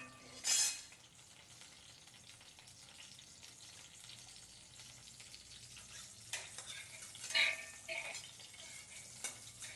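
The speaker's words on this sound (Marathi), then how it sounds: "काजू बदाम थोडेसे परतून घेते तुपामध्ये" Cashews and almonds fried in ghee in a kadhai, a soft continuous sizzle with a couple of sharp metallic clinks of a spoon against the pan.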